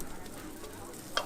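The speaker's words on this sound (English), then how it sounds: "he drops the baba down and quickly brushes oil over them" Baba flatbread sizzling and frying steadily in an oiled oven set over a fire, a constant crackling hiss with one brief sharp tap near the end.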